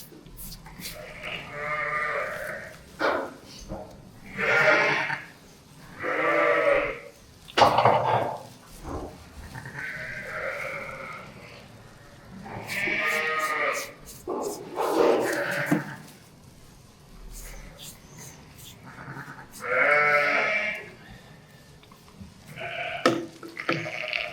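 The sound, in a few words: ewe sheep bleating, unhappy mother with two big lambs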